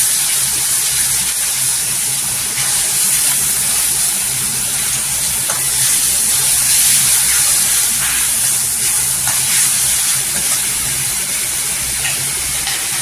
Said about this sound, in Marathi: इथे हिरव्या मिरच्या 2 ते 3 हिरव्या मिरच्या आहे। छान असं तेलावर भाजून घ्यायचं।